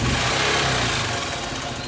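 A motorcycle engine running right after starting, loud and close, with a steady low rumble that settles into a rough idle throughout.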